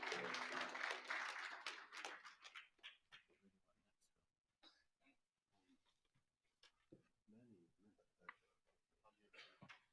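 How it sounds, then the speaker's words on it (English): Audience applause at a Oceti Sakowin treaty conference, a dense burst of clapping at the start that quickly thins to scattered claps, then faint room noise and talk. "Give him a round of applause, ladies and gentlemen."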